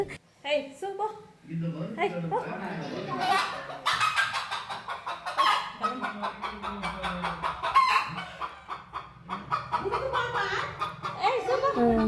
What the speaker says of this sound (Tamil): எங்கள் வீட்டு கோழி பாருங்கள் எங்கே முட்டை வைக்குதுன்னு